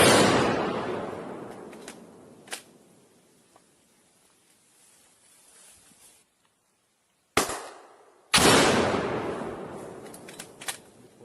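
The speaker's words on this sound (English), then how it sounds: "you see him whipping out the grenade launcher" Gunfire and grenade-launcher blasts come from war footage in Ukraine: loud, sharp explosive cracks, each trailing off in a long rumbling decay, separated by a quiet gap before two more bursts close together.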